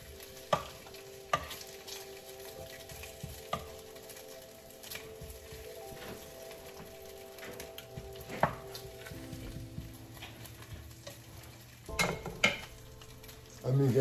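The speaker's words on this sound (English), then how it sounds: "So let me turn my bacon." Bacon fries in a dry pan without oil, crackling and popping steadily close by, with scattered clinks and scrapes of a utensil turning the strips and a clatter of pan handling toward the end.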